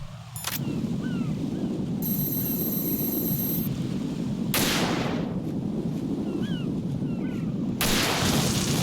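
Gunfire and explosive bursts from the Metal Gear video game: loud, dense blasts fill the scene throughout over a constant rumble, with bright electronic tones and short game effects between them.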